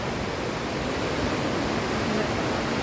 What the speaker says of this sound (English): And then, so there's the waterfall.